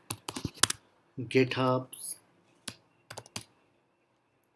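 Quick bursts of keystrokes on a computer keyboard enter a terminal command, crisp close clicks broken up by a short stretch of speech in between.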